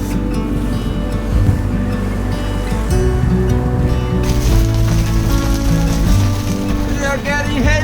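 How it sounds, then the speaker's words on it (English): Hailstones falling during stormy weather on the open North Sea off the South Norwegian coast, a dense hissing patter over heavy wave and wind noise, continuous and loud, with a sharper spattering burst joining partway through. "We are getting hailstones!"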